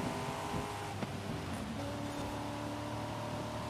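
A Corvette Stingray engine in Forza Horizon 5, driven during a rainy race, hums in a steady, moderately loud drone that shifts slightly in pitch, with no voices over it.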